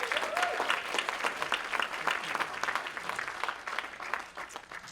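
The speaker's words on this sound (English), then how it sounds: "Let's give them an applause" A room of guests at an awards ceremony breaks into applause, a dense, even patter of many hands that holds steady throughout and tapers slightly at the end.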